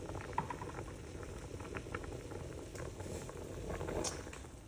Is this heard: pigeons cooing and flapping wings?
no